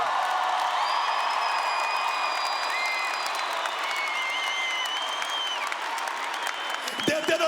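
A church congregation applauds and cheers during a sermon: a continuous wash of clapping with a few whoops, backed by sustained tones that sound like keyboard music, and a brief rustle near the end.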